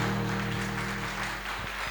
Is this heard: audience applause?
yes